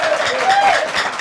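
A studio audience applauds on a Kenyan talk show, giving a steady, dense patter of clapping hands that carries on evenly throughout, with a voice faintly mixed in.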